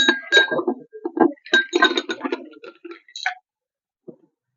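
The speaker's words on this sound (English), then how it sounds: "Then you have to pour some ice cube." Ice cubes poured into a cocktail shaker holding mango juice, a rapid cluster of bright clinks and clatters tumbling in quick succession, close, ending with a single faint clink after a pause.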